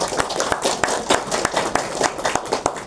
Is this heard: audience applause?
yes